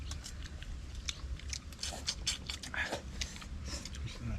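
Close, crisp crunching and chewing of crispy fried mudfish, dalag, with repeated bites and a quiet background of faint voices.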